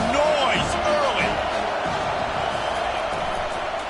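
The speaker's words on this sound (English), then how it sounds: "This crowd bringing the energy and noise early." Football stadium crowd roaring at a game in Duval, a loud, continuous wash of voices with a few louder shouts near the start.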